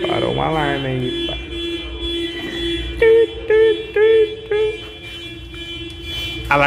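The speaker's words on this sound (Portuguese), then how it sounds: "Alarme de Vectra que é assim, né? Mó escândalo o bagulho." A Chevrolet Vectra car alarm sounds on a street, giving four loud, evenly spaced tonal blasts with steady whining tones running underneath, while people talk nearby.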